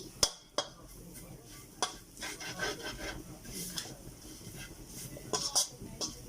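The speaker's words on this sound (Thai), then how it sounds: "ใส่น้ำมันน้อยๆผัดให้แห้ง" Roasted galangal chili paste stir-fried in a little oil, a spatula scraping and knocking against the pan with sharp clacks and rasping strokes over a soft background hiss, irregular and close.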